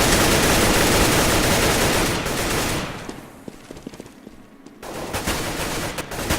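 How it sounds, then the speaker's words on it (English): Dense, rapid automatic gunfire from Counter-Strike on the de_inferno map rattles loudly, then thins to scattered single shots before heavy firing resumes. "Plenty of bullets being fired"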